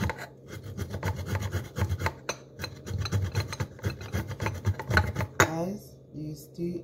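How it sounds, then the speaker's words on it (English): Ginger is rubbed against a small grater in quick, repeated rasping strokes, a close scratchy rhythm that continues for several seconds, with a voice speaking near the end. "I'm chipping the ginger."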